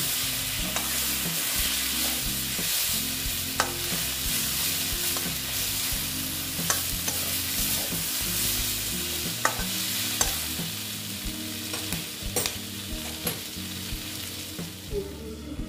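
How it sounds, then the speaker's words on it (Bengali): Bata fish with turmeric is stirred and sautéed in a hot pan, a continuous loud sizzle broken by regular scraping and clinking strokes of the spatula, with no speech. "এইবার আমি এটাকে আবার নেড়ে চেড়ে নিচ্ছি, ভালো মতন কষিয়ে নেব।"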